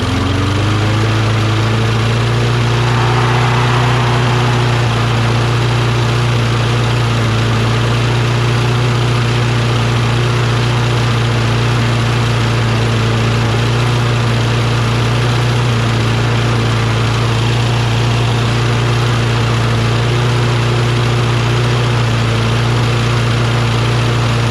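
A Toro Recycler lawn mower's Kohler XT675 engine idles steadily and loudly close by, a constant low throbbing hum with a slight vibration and no talk.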